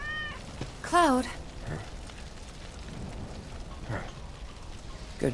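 A cat in Final Fantasy 7 Remake gives one clear, fairly loud meow near the start, over steady rain-like ambience with faint voices and a few soft game sounds afterward.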